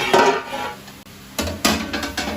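A lid is set onto a cooking pan of onions for duck curry, producing a few sharp metallic clanks and a short rattle, loud and close, with no talking.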